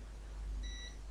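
Short steady electronic beep from a multimeter continuity test on a Samsung Galaxy S6 Edge G925F phone board during a charging repair, coming in about halfway through over a low hum.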